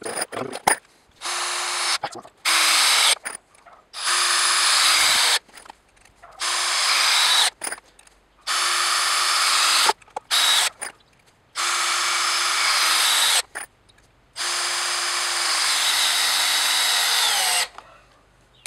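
Hitachi DV18DCL2 cordless driver drill sinking screws into a block of hardwood, about a dozen loud whirring bursts of one to three seconds each, separated by short quiet pauses, close to the mic with no talk.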